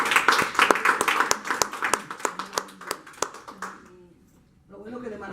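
Applause at a church service, dense clapping that thins into scattered claps and fades out, after which a voice begins speaking.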